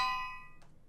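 A brand new bell from the video game Minecraft rings once with a bright metallic strike, its tone fading quickly, followed by a faint secondary tap; no one talks over it.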